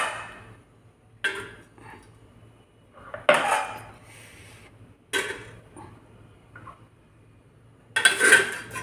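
Cups set down one by one onto a plate while assembling a cup cake, several separate ceramic clinks and taps with quiet pauses between them.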